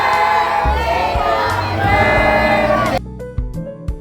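A crowd sings and cheers loudly at a birthday surprise as the candle is blown out, a dense swell of voices that cuts off abruptly near the end, leaving quieter scattered sounds.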